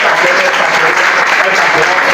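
A church congregation claps together in dense, steady applause, loud and continuous from start to finish.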